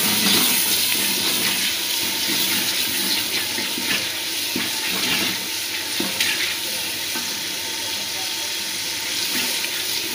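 Water sizzles into masala frying in a pan, a steady loud hiss and bubbling with occasional stirring clinks throughout, no talking.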